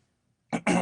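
A man clears his throat twice in quick succession during a pause in a religious talk, with a short gap between a brief first rasp and a longer, louder second one, close and dry.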